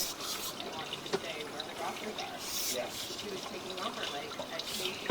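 Water runs steadily through a drain line with some buildup inside, a faint continuous rushing trickle with small splashy spikes throughout.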